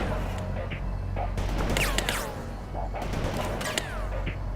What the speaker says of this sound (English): Now left-click on the Humvee to launch a tow missile at it